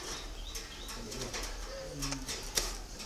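Doves in a breeding cage give low, soft coos under steady background hiss, with a few brief chirps and flutters and a sharp tap near the end.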